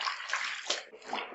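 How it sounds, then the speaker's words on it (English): White towels are washed by hand in a tub of soapy water, with close sloshing and splashing in irregular bursts. "we just start washing our towels and just start from the edges"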